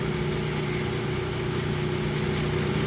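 Metal lathe spindle spinning with the clutch engaged, a steady continuous mechanical hum with a low drone, close and even throughout, with no talking.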